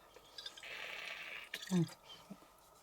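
A quiet gulp and liquid slosh from a bottle, with a brief hiss and lid noise nearby, in a hushed room.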